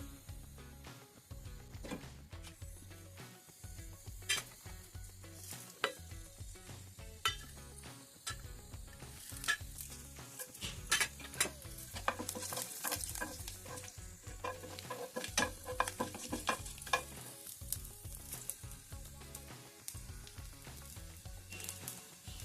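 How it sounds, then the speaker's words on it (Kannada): Mustard seeds go into hot oil in a pan for a moong dal tempering, giving a faint, continuous sizzle broken by scattered sharp pops and crackles that grow busier as the seeds heat. "ಬಾಣಲೆ ಎಣ್ಣೆ ಇಟ್ಟಿದ್ದೀನಿ ಮೊದಲಿಗೆ ಸಾಸಿವೆ ಹಾಕ್ಕೋತೀನಿ"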